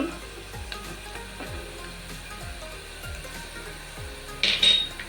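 Sautéing in a pan for mosaru saru, a Kannada curd curry: a faint, steady sizzle runs under soft spatula scrapes, with a brief brighter clink near the end.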